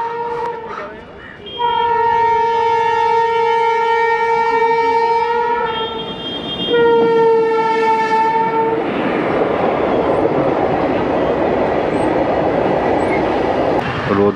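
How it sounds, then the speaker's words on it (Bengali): A train on the line near Dankuni, heard from the roadside, its loud horn blaring in long sustained blasts before the rumbling roar of the passing carriages fills the rest of the stretch. "এটা কি ট্রেন গেল?"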